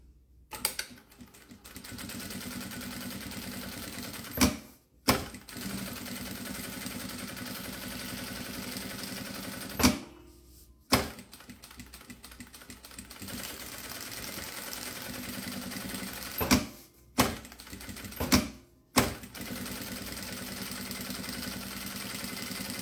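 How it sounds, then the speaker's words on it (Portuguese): A sewing machine stitches a lining around a necessaire in long steady runs of fast mechanical whirring, broken by short pauses and a few clicks between passes, close and continuous, with no talk. "vou passar uma costura de segurança em volta de tudo"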